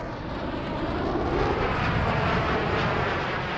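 Bomber aircraft engines drone in a steady, dense roar that holds level throughout, moderately loud and continuous with no other sounds.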